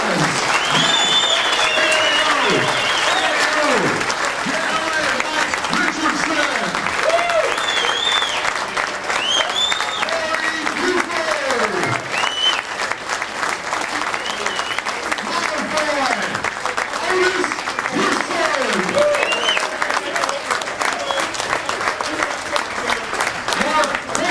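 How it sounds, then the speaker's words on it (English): A large crowd applauds steadily for a long stretch at a Chicago Bears fan event in Peoria, dense clapping with whoops and voices calling out over it. "Let's give our 85 Bears another round of applause!"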